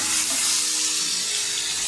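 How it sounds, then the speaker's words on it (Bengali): Shrimp and taro (mukhi kochu) curry with turmeric and salt frying in a pan, giving a steady, close hiss that runs on without pause and without any voices. "একটু ভাজা হোক।"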